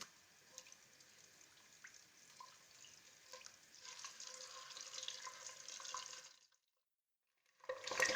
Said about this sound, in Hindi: अब मैंने 5 अदद अंडे उबाल लिए थे और उन्हें छील लिया है, ये शामिल करूँगी और इनको हम हल्का सा फ्राई कर लेंगे।